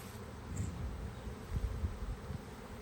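A low, steady insect buzz from many bees hums throughout, with slight swells in loudness and no voices.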